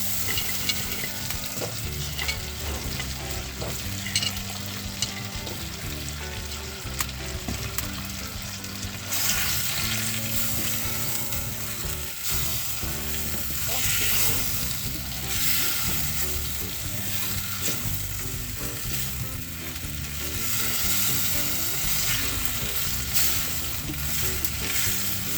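Potatoes and drumsticks (sajna) frying steadily in a pan for a village-style mustard-paste curry, a continuous close sizzle with stirring scrapes throughout, louder in the second half, with no talk.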